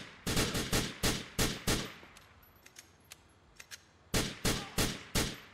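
Automatic gunfire from Grand Theft Auto IV crackles in rapid bursts: a quick run of loud shots, a scattering of fainter distant pops, then another dense burst, with no voices over it.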